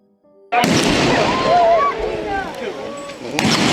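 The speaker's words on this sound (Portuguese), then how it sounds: "deu a impressão de que fosse uma bomba que ele tivesse jogado no ex-primeiro-ministro" A gunshot from a homemade two-barrel gun booms loudly and suddenly, like a bomb, at an outdoor political speech in Japan, followed by a roar of crowd noise and shouting, and a second blast near the end.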